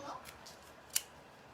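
A single quick, crisp snip of scissors, brief and fairly close, set against a quiet room with faint murmuring before it.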